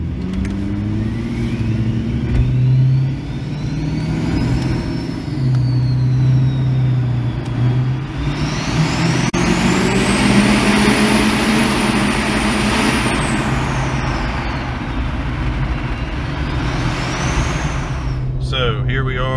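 A 6.7 Powerstroke diesel pickup with an MPD compound turbo kit tows a trailer loaded with about 13,000 pounds of rye seed. The engine gives a steady, loud drone throughout, with rising and falling turbo whistle.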